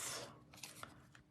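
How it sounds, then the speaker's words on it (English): Fabric scissors snip through a small piece of fabric or ribbon, giving a few quick, close, quiet crisp cuts and rustles. "these are my fabric scissors"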